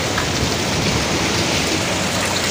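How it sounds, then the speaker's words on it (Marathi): Water pours from the mouth of a stone Nandi statue at an old Kokan temple in Jaigad, Ratnagiri, giving a loud, dense, steady splashing hiss right up close without a break. "नंदीच्या तोंडातून पाणी आलेलं आहे"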